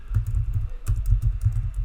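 Computer keyboard typing while entering a parameter name in Revit, a quick run of clicky keystrokes in two short bursts, close and clear with no talking.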